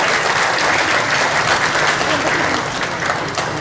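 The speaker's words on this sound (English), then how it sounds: "One more round of applause for the mayor." Sustained applause from a large outdoor festival crowd honoring the mayor at the Hmong Wausau Festival, a dense, steady wash of clapping close and loud throughout without a break.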